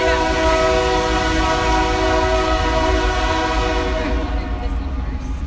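Close by, a train horn blares in a sustained, loud multi-note chord over rumbling wheels and rail clatter, the horn fading near the end while the rolling noise continues, with a voice faintly underneath.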